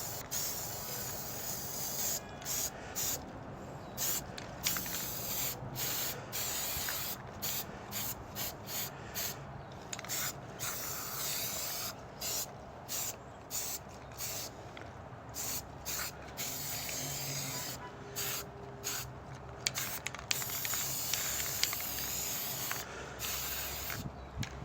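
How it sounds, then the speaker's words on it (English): A spray paint can hisses in repeated bursts of varying length, separated by short pauses, fairly quiet and close, with no talking. "I'm going to basically spray paint it"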